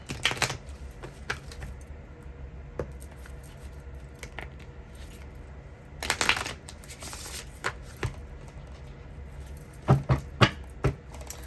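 Paper message cards being separated and shuffled by hand close up, soft scattered rustles and quick clicking flutters in irregular bursts, with quiet gaps between them.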